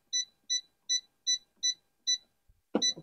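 Bread maker control panel giving six evenly spaced short electronic beeps, close and clear, followed by a soft clunk and one more beep.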